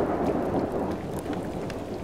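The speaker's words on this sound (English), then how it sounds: "It's wet and cold, thunder and lightning" Thunderstorm with steady heavy rain in the video game Subsistence, a dense continuous wash of rainfall with low rumbling thunder beneath, loud and unbroken throughout.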